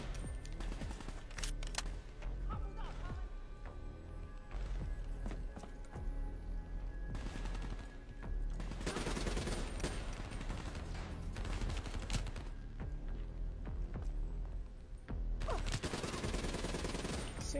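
Gunfire in Call of Duty Black Ops 3 arrives in several dense rattling volleys, loud and close, separated by quieter stretches of battle noise.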